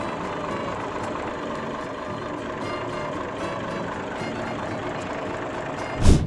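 A 1905 Otto stationary engine running steadily on its first start in 90 years, a continuous low, heavy mechanical drone with a faint regular beat, ending in one louder thump.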